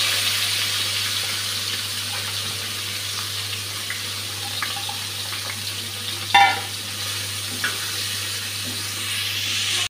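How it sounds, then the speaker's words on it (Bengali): Onion, bay leaf and green chili frying in a pan, a steady soft sizzle with a low hum beneath and one sharp clink of a utensil midway. "পেঁয়াজটা ভাজা হয়ে গেছে,"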